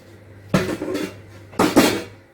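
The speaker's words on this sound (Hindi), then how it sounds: "तो बर्तन बाहर इकट्ठे करके रख दिए हैं, उनको साफ कर लेते हैं।" Metal dishes, pots and pans are gathered in a home kitchen, giving two close clattering bursts of clanking metal about a second apart over a quiet background hum.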